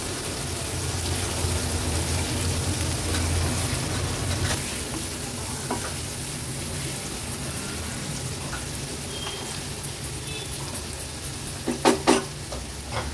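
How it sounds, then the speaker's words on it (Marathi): Chopped onion cooks in hot tempering oil in a pan over a low flame for a Palghar-style Marathi veg thali, giving a steady close sizzle and frying crackle throughout with a few sharper taps near the end. "कांदा पण आपल्याला शिजवून घ्यायचा आहे।"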